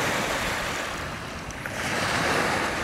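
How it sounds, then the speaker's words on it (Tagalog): Choppy waves on a wide dam reservoir slosh and break continuously over a strong wind rush, a dense, close roar of water with no talking. "Tignan nyo naman kung gaano kataas yung mga alon, no?"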